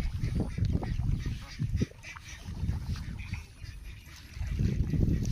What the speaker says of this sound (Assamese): এইকেইটা হাঁহ চৰি আছে।